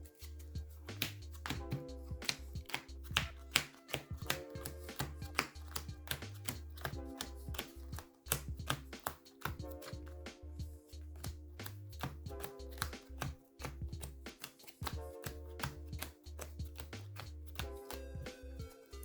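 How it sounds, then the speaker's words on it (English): A Dark Magician card deck gets a long, vigorous shuffle, with rapid clicking riffles and taps repeating in quick bursts, close and clear, with no talking. "we're going to have to give it a big shuffle."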